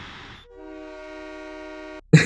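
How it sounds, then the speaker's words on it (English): A loud, sustained multi-tone train horn on a fire truck in a Roblox game blares for about a second and a half, steady and close, then cuts off abruptly before a burst of noise. "they got a train horn"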